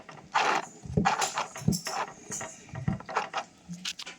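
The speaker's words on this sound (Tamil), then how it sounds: "இந்த ஹேண்ட் வீலை இப்படி பார்த்த மாதிரி நீங்கள் ரொட்டேட் பண்ணணும் பேக் சைடு பார்த்த மாதிரி ரொட்டேட் பண்ணணும்" A mini sewing machine's hand wheel is turned backwards by hand, giving a series of quiet mechanical clicks and ratcheting ticks in an uneven rhythm, close up and with no talking.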